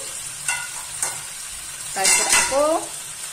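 Fish and fish roe fry together in a pan for an Assamese fish curry, giving a steady low sizzle with a few brief louder bursts of spatter near the end.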